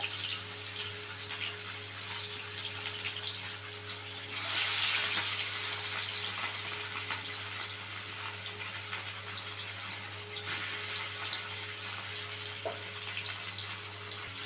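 Hot oil crackles steadily under a constant low hum, then a louder burst of hissing sizzle from frying rohu fish takes over for several seconds before settling back.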